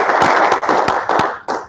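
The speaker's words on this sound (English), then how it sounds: "let's give Aaron a round of applause." Audience at a school board of education meeting applauding, a dense burst of clapping with sharp individual claps standing out, steady and fairly loud, briefly dipping before picking back up.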